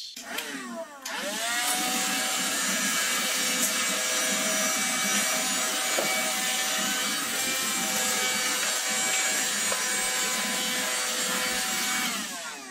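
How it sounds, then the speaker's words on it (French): A handheld vacuum cleaner runs continuously, sucking up a trail of crumbs and soil of different sizes, its steady high-pitched motor whine loud and close after a brief start-up. "c'est parti pour un petit test de chaque aspirateur"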